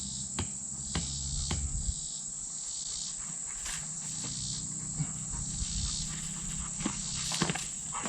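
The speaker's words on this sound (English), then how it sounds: "the bugs are a little bit bad down here" Crickets and other insects chirp in a dense, steady outdoor chorus, with a few faint knocks and footsteps in the foreground.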